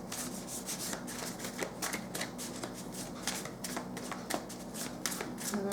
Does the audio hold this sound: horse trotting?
no